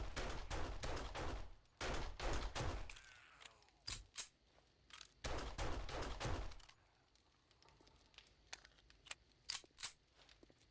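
Gunfire from a 9mm pistol and a shotgun in the zombie survival video game 7 Days to Die: bursts of sharp, close shots in quick rapid clusters, separated by quieter gaps with a few single shots and mechanical clicks.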